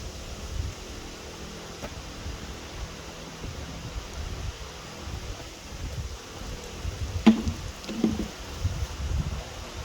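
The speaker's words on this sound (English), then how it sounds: "It's very windy today." Gusting wind blows outdoors on a hot day, a low, uneven rumble and buffeting against the microphone that rises and falls, fairly faint and steady with a few stronger gusts.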